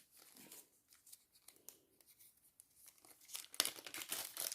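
Quiet tearing and crinkling of a cross-stitch kit package sealed with tape at close range, with rustles and a louder rip near the end.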